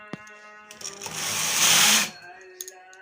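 A knitting machine runs a stitch row, its carriage making one smooth whirring sweep of a second or so that swells and fades, with someone speaking briefly before and after.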